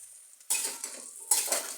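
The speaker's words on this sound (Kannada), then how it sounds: "ಕಟ್ ಮಾಡಿ ಇಟ್ಕೊಂಡಿರೋಂಥ ಬೇಬಿಕಾರ್ನ ಒಗ್ಗರಣೆಗೆ ಹಾಕ್ತಾಯಿದ್ದೀನಿ" Cut baby corn dropped into hot tempering with curry leaves and onion in a cooker, giving two sharp bursts of hissing sizzle with a scrape of stirring between them, close and loud with no voices.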